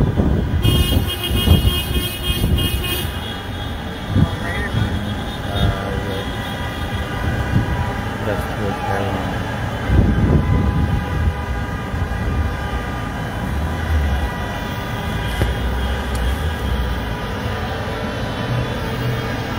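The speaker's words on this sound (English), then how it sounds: "As you can hear from the horns" Freedom Convoy 2022 trucks in Ottawa sound long, loud horn blasts near the start, followed by a busy rumble of traffic with scattered fainter honks over about twenty seconds.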